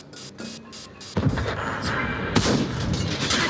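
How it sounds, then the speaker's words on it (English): A tank cannon fires in a tank video game, a sudden heavy boom that rolls into a long rumbling tail over steady engine and battle noise, with clanking beats just before. "That shot didn't go through."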